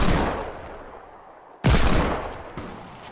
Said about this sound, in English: I can't hit my deagle shots today